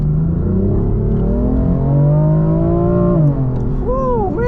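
A 2018 BMW M4 accelerates at full throttle, its engine note climbing steadily and loudly from inside the cabin, then dropping sharply at a gear change before revving up again.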